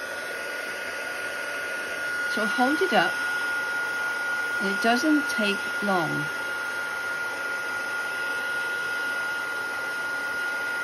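A heat gun used for craft embossing gives a steady, loud blowing hiss that runs through the whole stretch, with someone speaking over it in a few short phrases.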